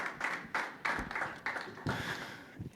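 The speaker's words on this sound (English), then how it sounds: "Let's give them a round of applause." An audience claps together after a group is thanked at a youth worker training, with uneven bursts of applause close by and no talk over it.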